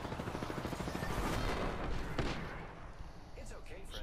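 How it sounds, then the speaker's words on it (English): Rapid gunfire and heavy weapon bursts in the Apex Legends video game, dense and continuous with booming shots, while players talk over the action. "They heard gunfire."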